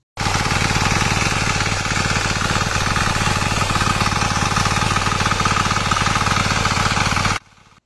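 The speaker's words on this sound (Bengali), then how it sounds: "মাত্র ১ লিটার তেল খরচ করে আপনি বিঘার পর বিঘা জমির চাষ করুন এই মেশিন দিয়ে।" A small land-tilling machine's engine runs loud and close, a steady rapid hammering chug that holds for about seven seconds and then cuts off abruptly.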